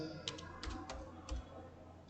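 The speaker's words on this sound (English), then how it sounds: "I'll be typing here the field name" Keys clack on a computer keyboard in a short run of light, irregular taps, several distinct strokes close by and fairly quiet, with no speech over them.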